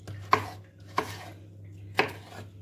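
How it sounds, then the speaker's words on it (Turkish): Knife chopping potatoes into cubes on a cutting board for Arap tava, three sharp separate chops close by over a low steady hum, no voices. "İnce şeritler halinde keseceğiz patatesimizi, küp küp doğrayacağız."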